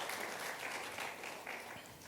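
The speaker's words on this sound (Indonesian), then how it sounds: "Kasih tepuk tangan buat Tuhan Yesus." A church congregation at a Sunday worship service claps together, producing a soft, steady wash of applause that sounds distant and fairly faint throughout.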